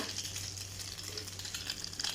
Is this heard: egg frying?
yes